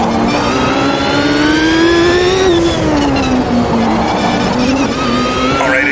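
A 1995 IndyCar at Long Beach, rendered in the racing game Automobilista 2, screams under hard acceleration, its loud, steady engine note climbing through revs, dipping briefly around an upshift, then rising again.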